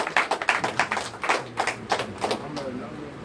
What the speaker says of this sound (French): Un bel applaudissement pour recevoir pasteur François.